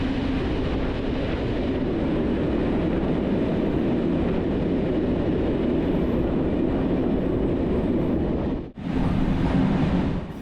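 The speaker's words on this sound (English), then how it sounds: "the rickety tracks and the sound of the braking locomotive give off such a classic railway vibe" A passenger train rolls over rickety tracks approaching Szolnok behind a braking locomotive, heard as a loud, steady rumble and rattle from inside with open windows, briefly dipping near the end before resuming.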